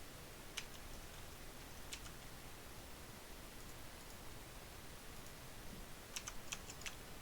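Typing on a computer keyboard while building a Dreamweaver web page: sparse, faint key clicks over soft hiss, with a quicker cluster of taps near the end.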